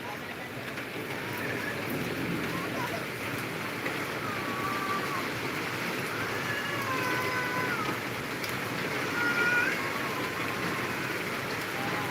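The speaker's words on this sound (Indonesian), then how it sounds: "Cuaca masih hujan lebat di depan rumah." Heavy rain pours outside a house, a steady dense hiss lasting throughout at an even, fairly loud level, with no voices over it.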